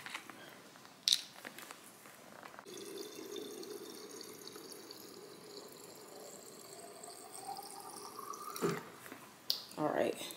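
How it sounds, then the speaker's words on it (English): A water bottle being filled at a tap: a steady running-water stream lasting several seconds, fairly quiet and close, with a few clicks and knocks at the start and end. "I'm gonna fill up my water bottle a little bit more."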